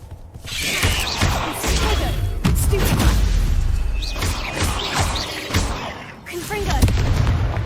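The Confringo fire spell from Hogwarts Legacy sets off repeated loud explosive blasts and crackling booms in dense, continuous game combat sound, with a voice shouting over it.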